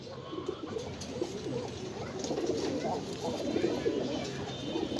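Fancy pigeons coo repeatedly in low, soft rolling calls, several birds overlapping at a moderate distance, with faint talk beneath.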